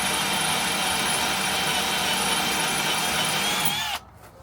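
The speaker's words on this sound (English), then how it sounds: "just drill the hole into the head of the bolt deep enough so that it gets to the shank" A power drill bores into the head of a steel bolt on a truck's leaf spring, a loud continuous whine and grind held steady for about four seconds before it cuts off abruptly.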